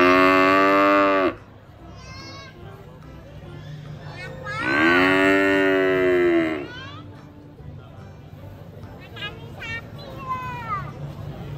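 Cattle being fed by a child moo loudly in long calls, a strong one at the start and another in the middle, with shorter bleating calls and children's voices scattered through the rest.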